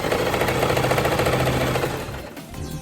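A sewing machine run by a foot pedal chatters in a fast, steady mechanical rhythm, close and loud, then slows and stops near the end.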